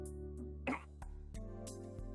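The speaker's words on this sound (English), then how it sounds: "I cough." A single short cough from a character in the Fate/Stay Night visual novel, quiet and brief amid low background music.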